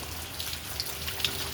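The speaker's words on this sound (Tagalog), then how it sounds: "Grabe ang ulan." Heavy monsoon rain during a typhoon in the Philippines, a steady dense hiss of rainfall with a few scattered sharper drops striking a surface, no voices.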